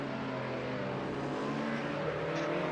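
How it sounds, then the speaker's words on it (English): Touring race cars in Project CARS 2 at Donington Park GP, engines crackling and popping under engine braking into a hairpin, a continuous loud engine drone throughout with brief crackles. "Cackles as they engine brake for the hairpin."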